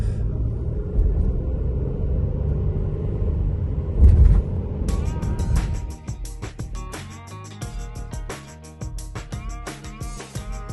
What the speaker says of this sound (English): Just driving around the campsite.